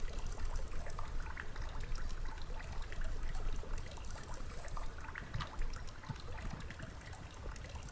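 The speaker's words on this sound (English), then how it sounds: "The sound of dripping water has not gotten any quieter or louder." Steady water trickling and dripping in the Screen Cleaning Simulator video game, a continuous even wash of small splashes that holds the same moderate level throughout with no voices.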